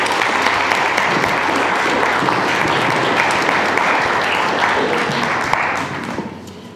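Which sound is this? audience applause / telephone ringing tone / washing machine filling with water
audience applause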